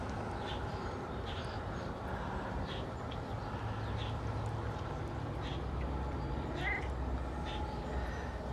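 A house cat meows repeatedly in short, faint calls, fussing for petting in a quiet room over a low background rumble.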